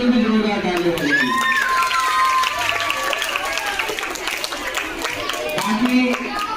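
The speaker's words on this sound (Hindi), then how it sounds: "उनके लिए भी जोरदार तालियां बजेगी" Applause for a teacher at an Urdu-medium school event in Dindoshi, steady crowd clapping filling the whole stretch with children's voices and cheering mixed in, loud and continuous.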